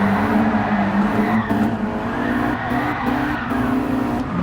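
A Nissan 200SX S13 drifts hard on the Nordschleife in GT Sport, its engine droning loudly and steadily while the tires squeal through the slide, with brief dips as the revs shift.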